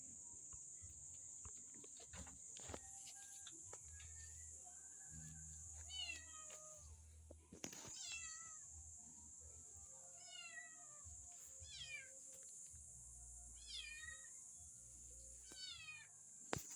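Kitten in a backyard giving a series of thin, high meows at irregular intervals, fairly faint against a constant outdoor insect hum with low rustling.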